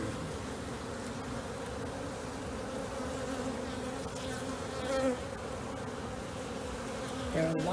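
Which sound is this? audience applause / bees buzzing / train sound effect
bees buzzing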